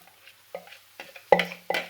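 A spoon scraping and tapping as cauliflower rice is spread quickly around an oiled pan, several short clinks and scrapes with a light sizzle, close and clear without talk.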